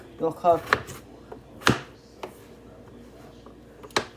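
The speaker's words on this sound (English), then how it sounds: "So I'm just gonna cut these in small pieces, just so they cook quick." A knife cuts potatoes into small pieces on a board. Several sharp, separate chops fall at uneven intervals over a low background, and a brief voice is heard at the start.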